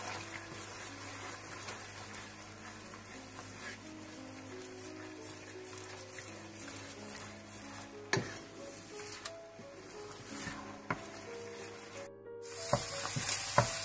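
Tomato puree with crumbled chicken stock cube, crushed red chilli and salt frying in a pan for chicken pasta, a steady close sizzle with occasional scrapes and clinks near the end.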